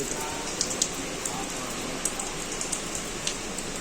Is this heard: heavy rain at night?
yes